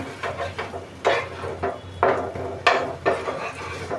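Eggplant slices being turned in a covered pan give a series of sharp clatters and scrapes of utensil against cookware, close and moderately loud, with irregular knocks over a low background hum.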